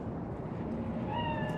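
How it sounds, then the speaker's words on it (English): A single cat meows in Cyberpunk 2077, a short rising and falling cry near the end that sits over a dense, steady bed of ambient city noise. "Chill, just a cat."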